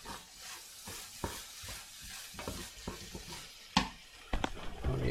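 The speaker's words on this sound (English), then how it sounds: "And we just keep stirring." Food being stirred in a sizzling pan, irregular scraping strokes and clatter over a soft frying hiss, with sharper knocks near the end.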